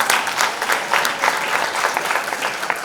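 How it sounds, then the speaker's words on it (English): Audience applause fills an awards ceremony for young entrepreneurs, a dense, steady wash of many hands clapping with slight swells, loud and close, no voices over it. "A big round of applause one more time"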